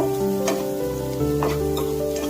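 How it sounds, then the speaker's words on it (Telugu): Onions and curry leaves fry in a pan with a loud, continuous sizzle and crackle close by, with a couple of stirring scrapes. A steady tonal hum from the stove or a fan runs underneath, and no one speaks. "ఆనియన్స్ ఫ్రై అవ్వాలి."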